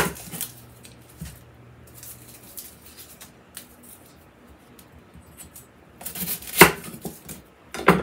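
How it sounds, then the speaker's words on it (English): Knife chopping an onion on a cutting board, scattered close taps and soft knocks at an uneven pace, with a cluster of louder sharp chops and a clatter near the end. "And we're gonna get our onion chopped."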